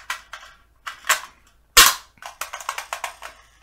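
An AR-15 style 300 Blackout pistol with an empty magazine gives a series of sharp metallic clacks as the bolt catches and releases, close and loud, with one especially hard snap in the middle.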